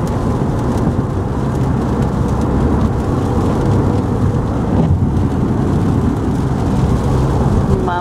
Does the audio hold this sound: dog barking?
no